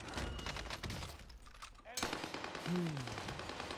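Rapid bursts of automatic machine-gun fire in the Warzone video game, a dense rattling barrage that pauses briefly and then starts again, with a voice talking over it.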